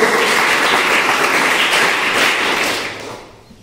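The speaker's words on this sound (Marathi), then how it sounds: "त्यांच्यासाठी जोरदार टाळ्या वाजवा" Applause from an audience at a school prize-giving ceremony, held on Republic Day at Yashwantrao Rane Madhyamik Vidyalaya in Bapardé. The dense, steady clapping stays loud through most of the clip and fades out near the end.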